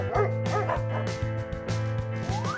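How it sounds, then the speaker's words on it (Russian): A dog gives several quick barks and yips in a rapid series over a light musical backing. "Собака."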